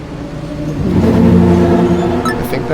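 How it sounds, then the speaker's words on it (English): A train passes in a sci-fi point-and-click video game, a loud mechanical rumble that swells and holds for a few seconds with a brief whine near the end. "I think that was the last train for today."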